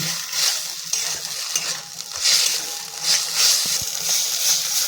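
Spinach paste stir-fried with spices in a pan, giving a continuous close sizzle with rhythmic scraping strokes of the spoon throughout and no speech.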